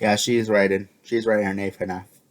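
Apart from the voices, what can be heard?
No distinct noise like a dog, phone or traffic.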